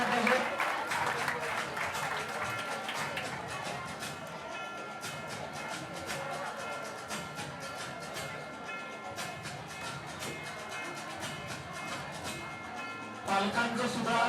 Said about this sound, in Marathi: पालकांसाठी पुनश्च एकदा आपण जोरदार टाळ्या वाजवायच्या आहेत